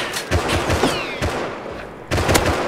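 Gunfire in a shooter video game: rapid bursts of loud shots in clusters, with a short lull before another sharp volley near the end.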